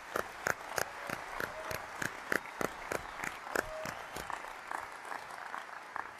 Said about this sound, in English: I think you can give the production crew here a pretty good round of applause for how well it was put together